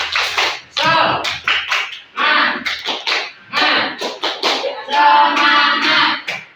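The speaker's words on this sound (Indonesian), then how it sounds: "Mari kita tepuk dulu. Tepuk semangat." Schoolchildren in a classroom clap the rhythmic 'tepuk semangat' pattern together, with bursts of sharp claps alternating with loud, close group chanting in children's voices.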